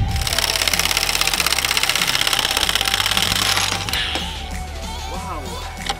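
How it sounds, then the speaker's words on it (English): Frame bolts being undone on a Tatra truck chassis cross member by a loud, rapid hammering impact tool, a steady harsh rattle that falls quieter and looser near the end as a bolt gives way. "We will try to unbolt these bolts that hold the frame with the cross member of the chassis."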